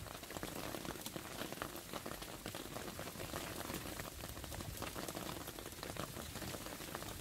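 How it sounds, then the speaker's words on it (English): Dense, steady pattering of small hailstones and summer rain striking leaves and ground, a continuous crackling wash with no voices. "the little hail stones dropping on the leaves and the ground"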